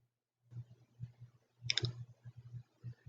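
Soft mouse clicks on an apply button come in a quick irregular run, quiet and close, with one sharper click standing out midway through.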